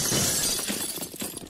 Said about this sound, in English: Break more glass than that?